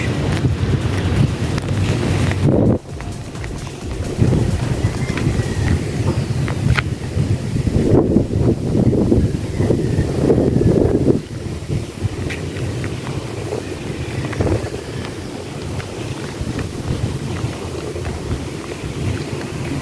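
Strong wind gusts buffet the microphone at the Masinloc seaside baywalk, a continuous loud roar that rises and falls, with faint surf and open-air background noise underneath.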